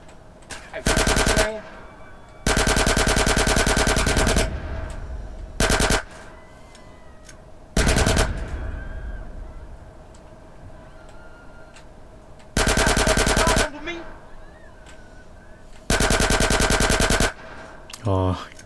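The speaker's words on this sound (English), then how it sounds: "let me shoot this guy first" Automatic gunfire in GTA San Andreas Definitive Edition, loud rapid bursts of shots repeating across the scene with quieter game ambience and a little talk in the gaps.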